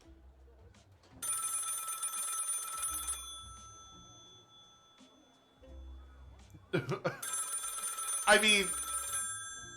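An old-style telephone bell rings in the video game Lil' Guardsman, two long bursts of ringing separated by a pause, with people talking and laughing between and over the rings.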